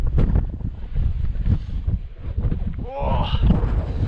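Strong wind roars across a microphone on a mountain hike in the Applecross hills, a steady, loud buffeting rush with gusty swells close to the mic.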